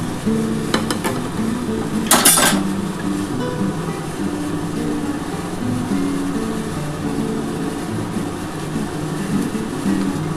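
Hilsa fish pieces going into a hot pan for a spicy curry, with a steady sizzle and clatter of a utensil throughout, a brief sharper burst of frying early on.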